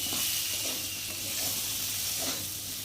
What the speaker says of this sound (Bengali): তো আদা দিয়েছি, তো কাঁচা আদা একটু ভালো করে ভেজে না নিলে একটা কাঁচা গন্ধ ভাব বেরোবে